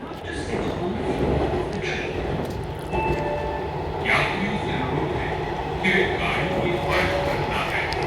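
Steady rumbling roar of a Kanpur Metro train ride, heard from inside the carriage with constant track and motor noise and occasional faint squeals, while people talk over it.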